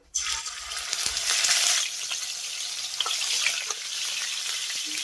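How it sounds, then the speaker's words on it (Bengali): Salted fish pieces frying in hot oil for a Bengali katla curry give a loud, steady sizzle with crackling spatters, close and continuous, with no talk. "এবার আমি গরম তেলের ভিতরে এক এক করে লবণ মাখিয়ে রাখা মাছের টুকরোগুলো দিয়ে দেবো"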